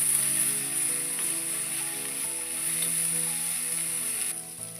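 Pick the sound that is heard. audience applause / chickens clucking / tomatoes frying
tomatoes frying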